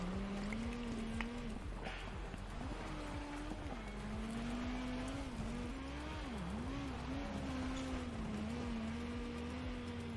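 A rally car in the WRC 9 video game runs at full throttle on a narrow gravel stage, its engine note droning continuously and dipping and rising through corners, loud and close with gravel rumble beneath and no voices.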